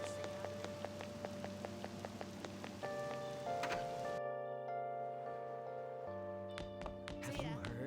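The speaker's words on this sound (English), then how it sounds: "Looks like it's raining today." Rain falls in the video game Persona 5 Royal as a steady patter that runs the whole time. Layered game music sits on top of it, with sustained tones and plucked notes, and no one speaks.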